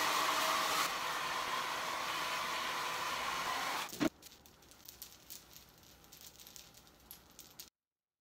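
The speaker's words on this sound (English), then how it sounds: "blow drying it down." A hair dryer blows loudly on a heavy glued yellow braided wig, roaring steadily for about four seconds before cutting off, followed by faint rustling and handling noises.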